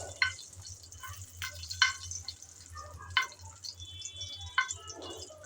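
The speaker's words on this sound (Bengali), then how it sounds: "মরিচগুলো নেড়ে চেড়ে ভেজে নেব।" Dried red chillies are stirred and fried in a pan, giving quiet sizzling with several sharp, separate clicks and scrapes of a spatula spaced a second or so apart, close but fairly soft.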